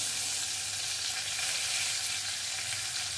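Cumin seeds, asafoetida and curry leaves sizzle in hot oil in a pan while breakfast bread pakoda is being made, giving a steady, bright, continuous crackling hiss with no talking.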